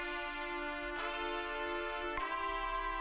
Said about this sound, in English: So another element that we have is trumpets that also come in.